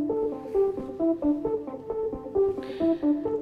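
Techno synth line playing a bouncy, repeating melodic pattern of short plucked notes with a steady pulse, clear and upfront with no voices.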